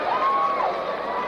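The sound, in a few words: wrestling crowd applauding Mil Mascaras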